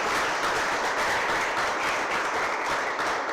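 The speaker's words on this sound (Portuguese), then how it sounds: "Vamos aplaudir nosso Deus." Worshippers in a Portuguese-speaking church service applaud in praise of God, a full, continuous roar of clapping from a large crowd that holds steady throughout with no talk over it.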